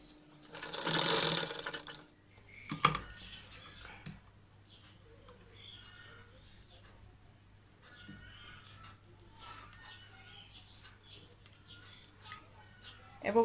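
A sewing machine stitches a hidden zippered pocket into a salwar, running in one loud, steady burst of about two seconds at the start before quieter handling noises take over.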